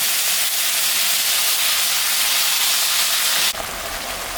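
Ginger, cumin and chili masala paste sizzles and hisses steadily in a hot pan, a loud close frying sound that shifts abruptly near the end.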